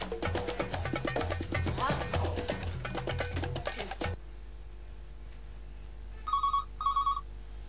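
A telephone rings twice in short electronic bursts after loud music cuts off, the rings clear and fairly close against a quiet room.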